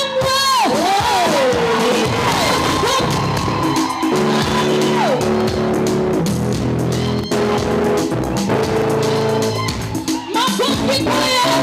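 A church congregation at a Pentecostal Assemblies of God second service in Nyamataro claps and cheers, a loud, steady wash of crowd noise blended with amplified music and singing throughout.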